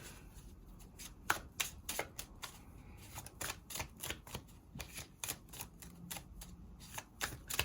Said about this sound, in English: I'm going to put down some more cards.